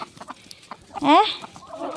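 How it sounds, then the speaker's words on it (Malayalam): Backyard chickens cluck in short, soft bursts, then one rises into a louder squawking call before settling into quieter low clucks again. "മേഴ്സി ചേച്ചിയുടെ കോഴിപ്പടയത്"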